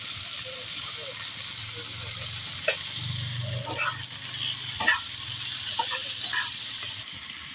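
Vegetables with onion, turmeric and salt being stirred in a pan, a soft steady sizzle with scattered scraping clicks from the spoon, close by and continuous, with no talk.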